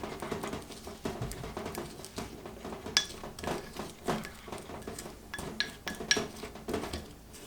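Dried oregano and garlic powder stirred together in a bowl, with a spoon scraping and clinking irregularly against the sides. Close, soft, and busy, with no talking.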